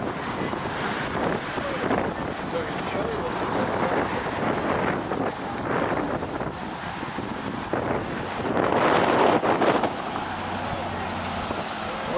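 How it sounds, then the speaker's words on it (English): Strong wind roars steadily across the microphone on an exposed waterfront near Plymouth, a constant loud buffeting that swells further toward the end, with faint voices underneath. "The wind is certainly blowing here."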